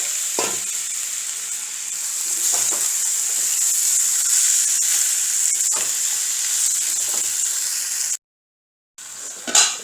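Marinated chicken frying in a pan for chicken biryani, a loud continuous hissing sizzle with occasional stirring knocks, cut off briefly near the end before the sizzle returns.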